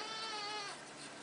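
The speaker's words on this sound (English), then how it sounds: "Congratulations, Mama Goat." A mother goat with newborn twin kids on an organic farm gives a faint, wavering bleat that sounds nearby and soft and holds for about a second with nothing else heard.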